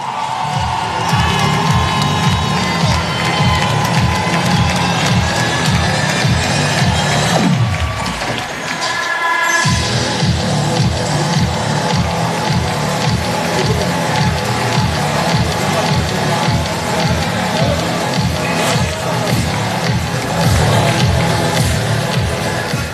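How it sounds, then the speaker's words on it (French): A gala audience at the 2023 FECAFOOT Ballon d'Or ceremony cheers and applauds Francis Ngannou in a dense, sustained roar of claps and shouts, broken by a brief dip midway before surging back at full strength. "Ici, on applaudit Francis Ngannou"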